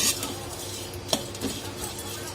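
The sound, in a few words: dried prawns roasting in a hot pan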